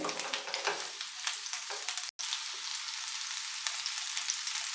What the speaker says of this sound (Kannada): ಈಗ ನಾನು ಎಣ್ಣೆಗೆ ಡೈರೆಕ್ಟಾಗಿ ಇದು ಹಾಕ್ತೀನಿ ಸ್ವಲ್ಪ ಕ್ರಿಸ್ಪಿ ಆಗಿರಬೇಕು